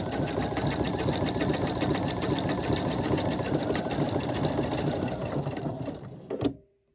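A sewing machine runs a rapid, steady triple stitch along a pillow cover for nearly seven seconds, loud and close, then stops abruptly.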